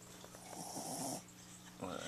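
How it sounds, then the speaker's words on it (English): A sleeping dog gives a couple of soft, nasal snores a moment apart, quiet and close in a calm indoor room. "Oh, she snored again."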